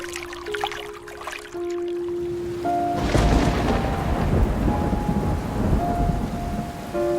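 Heavy rain pours down loudly during a thunderstorm in a horror cartoon, a deep crack of thunder breaking in and rumbling on while steady tones of background music continue over the downpour.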